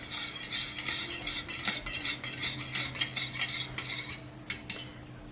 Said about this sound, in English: First, I like to mix it around a bit with my whisk.